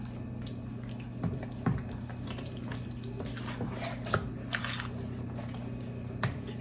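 Water trickles from a tap into a loose mixture being stirred for a baked Father's Day dinner dish, a soft wet pouring under a steady low kitchen hum with a few small clinks, no voices.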